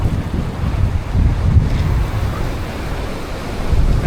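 Ocean waves surge and wash against a cliff in a continuous, loud roar mixed with gusty wind buffeting the microphone, with no voices.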